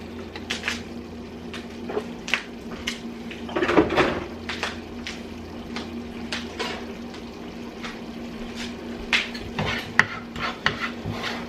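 A utensil scraping and knocking against the bottom of a pan of beans with onions and garlic, repeated close clanks and scrapes at an uneven rhythm over a faint cooking bubble, with no talking.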